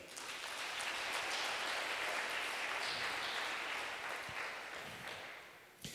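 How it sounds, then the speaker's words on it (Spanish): A church congregation claps together in a steady, broad wash of applause that stays even for several seconds before fading near the end, with faint voices under it. "Un aplauso a Él"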